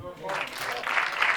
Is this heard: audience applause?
yes